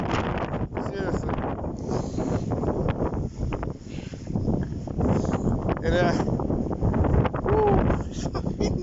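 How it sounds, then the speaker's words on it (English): Strong wind gusting during a sandstorm, a constant loud roar and buffeting against the microphone that fills the whole stretch, with people talking underneath. "It's fucking windy out here."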